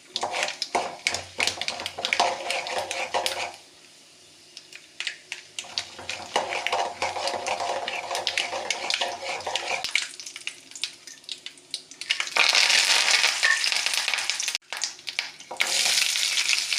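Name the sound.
tempering mustard seeds and urad dal in coconut oil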